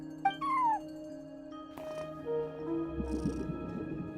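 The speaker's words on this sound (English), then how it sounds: "No one except for a cat watching over the front desk." A cat in Genshin Impact gives a short rising-and-falling meow near the start, set over soft game music with a brief chime and some low rustling after it.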